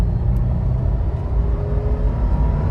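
A Toyota 4Runner TRD Pro's V6 runs at partial throttle on an unsealed gravel road, a steady loud rumble of engine and road noise heard from inside the cabin, continuous and without talking.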